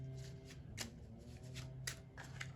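A deck of board game quest cards being shuffled by hand, a quiet close riffling with several distinct bursts of card flutter at a steady pace.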